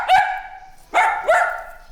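An imported pet dog barks three times, loud and close: one bark and then a quick pair, each with a brief yelping tail.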